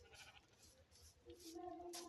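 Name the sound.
sheep bleating in the video game Minecraft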